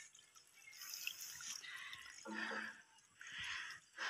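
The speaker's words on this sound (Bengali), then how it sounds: "এখানে জল ছাড়া হচ্ছে এক একটা ভাগে" Irrigation water runs into a ridge gourd field plot, a soft trickling and splashing flow that swells and fades in uneven surges, fairly close and quiet.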